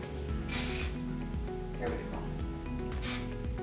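Hair finishing spray sprayed onto a curled Victorian up-do for long hair: two short, close hissing bursts about two and a half seconds apart, with a brief remark spoken between them.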